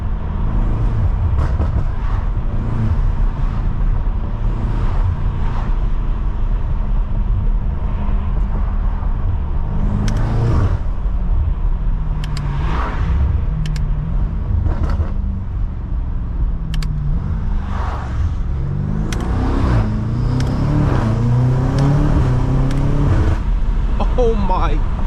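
A 700 hp BMW F90 M5 Competition accelerating hard, heard from inside, with a loud continuous engine roar rising and falling through gear changes for about twenty-five seconds.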